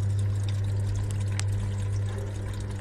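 Water running inside a washing machine during a wash cycle, a steady pouring flow over a constant low motor hum, close and continuous.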